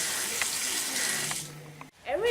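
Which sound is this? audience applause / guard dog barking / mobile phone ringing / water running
water running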